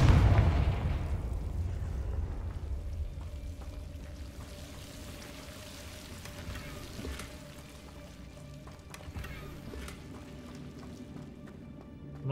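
A Confringo fire spell bursts in the Hogwarts Legacy video game, a loud booming blast at the start that fades into a long rumbling, crackling tail over steady game ambience.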